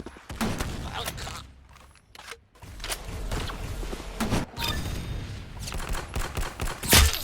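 Gunfire in a first-person shooter video game: bursts of shots and mechanical clicks come in uneven clusters, with a sharp, loud shot near the end and brief quiet gaps between volleys.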